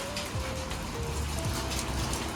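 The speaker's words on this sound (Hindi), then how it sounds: "खाली ओले ओले गिरने लग गए हैं।" Hailstones falling together with rain pelt the ground continuously, a dense, loud and steady patter close by with no talking.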